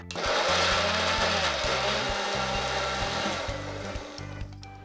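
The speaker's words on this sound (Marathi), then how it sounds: "आता ह्याला आपण मिक्सरमधनं फिरून घेऊ." Mixer grinder whirring steadily as it blends a raw mango and onion chutney, a loud continuous motor drone running throughout with slight changes in pitch as the contents churn.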